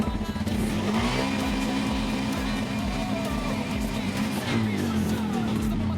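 A Bajaj RE auto rickshaw engine revs at full throttle after a throttle pedal installation, a loud sustained buzzing drone with slight rises in pitch.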